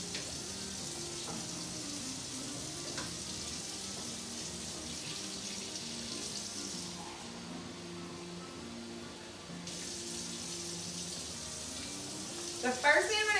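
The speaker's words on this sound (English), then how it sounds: "You're hearing a little sizzling." Shrimp creole base sizzles and fries steadily in a pot, a continuous hiss of moderate loudness that runs throughout, with a brief clatter near the end.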